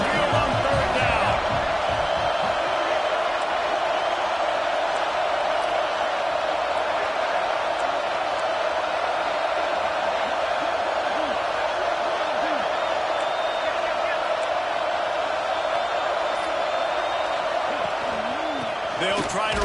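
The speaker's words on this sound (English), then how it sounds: "The Tide crowd rolling noise down onto Saban Field on third down." Alabama Crimson Tide crowd at Saban Field roars on third down during a Georgia vs Alabama football game, a dense, loud, sustained stadium din under ongoing commentary.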